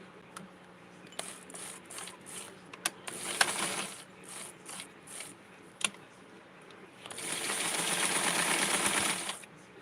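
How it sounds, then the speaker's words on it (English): A sewing machine stitching Barbie doll clothes runs in short, quiet clattering bursts, then settles into a longer steady whirring run near the end, with no voices. "And let's sew this here."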